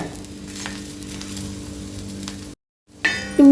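Green chillies roast in a pan for kudasa chutney, a steady close sizzle and crackle that cuts out abruptly, then resumes with a few clinks.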